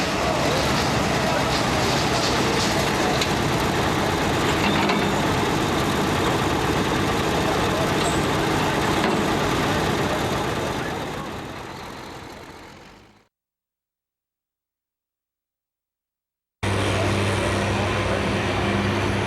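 A big-torque Case-engined pulling tractor at a 2003 ATPA Midwest Summer Nationals super-class pull, a loud sustained engine roar for about thirteen seconds that fades out, then silence, and the engine noise returns.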